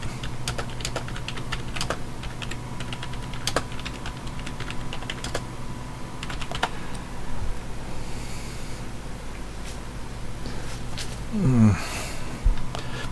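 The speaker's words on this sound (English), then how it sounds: "My typing's just started." Steady computer keyboard typing during a tabletop roleplaying game session, continuous tapping clicks at moderate distance with a faint background hum and a brief rustle near the end.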